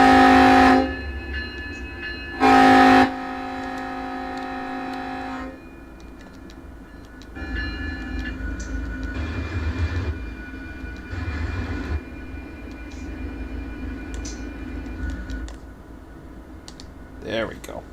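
A freight train in Run8 Train Simulator gives a low rumbling drone with blasts of a loud horn near the start, plus bursts of keyboard typing and someone talking over it.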